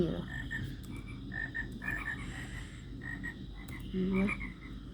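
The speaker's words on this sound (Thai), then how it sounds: "กบเสียงดังเกิน" Repeated frog croaks sound inside a modded Minecraft 1.16.5 world, short bursts scattered across the clip with a louder croak near the end, set against a steady low background and no speech.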